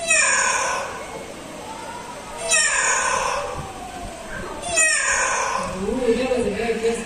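A parrot gives three drawn-out cat-meow imitations, spaced a couple of seconds apart, fairly close and clear, with a short spoken phrase near the end.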